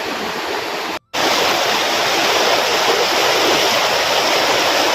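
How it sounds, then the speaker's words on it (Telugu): A waterfall near Tirupati runs with heavy water flow after rain, giving a loud, continuous roaring rush, broken only by a split-second dropout near the start. "వాటర్ ఫ్లో సౌండ్ అయితే భయంకరంగా ఉండింది"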